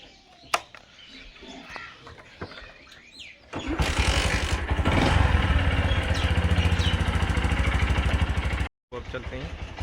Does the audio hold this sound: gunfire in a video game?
no